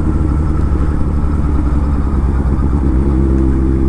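A Honda Hornet motorcycle riding through the night, its engine a loud, steady close drone with a constant rumble and faint clatter, no one talking.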